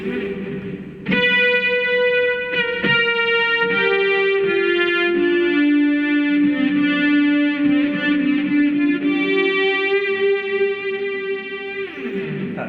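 A sustained BOSS SY-1 guitar synthesizer pad with long, smooth held notes and rich harmonics, gliding between pitches without gaps, loud and continuous throughout.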